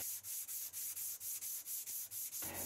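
Power sander working on wood in a workshop, a steady close abrasive whir pulsing in quick regular strokes, about five per second, with no talk.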